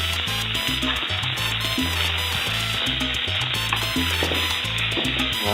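An asparagus omelette fries in a pan, giving a loud, steady close sizzle and crackle that holds throughout, with a faint rhythmic bubbling beneath and no talking.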